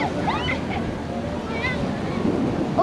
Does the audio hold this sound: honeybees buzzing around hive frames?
no